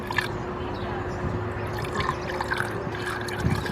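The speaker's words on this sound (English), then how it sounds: "We're going to pour it in there" Water pours and trickles steadily into the radiator of a 2004 Kia Sedona, with a faint hum and some handling noise beneath the flow.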